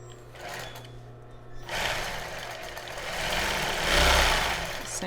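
A sewing machine runs in short bursts while stitching a child's bra with backstitching, a busy mechanical whir rising and falling up close, with faint talk in the background.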